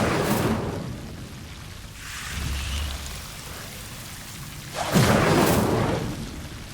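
Incendio fire spells cast in Hogwarts Legacy, heard as roaring, whooshing bursts of flame, a strong rush at the start, a softer rumble mid-way and another loud flaring surge near the end.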